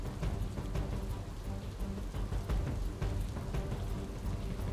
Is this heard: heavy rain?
yes